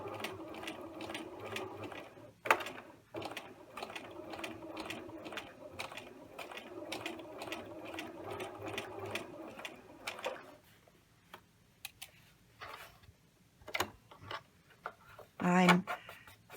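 A sewing machine edge stitches a tailored shirt placket in a fast, steady run of needle ticks that stops about two-thirds through, leaving scattered clicks and handling sounds as the fabric is adjusted.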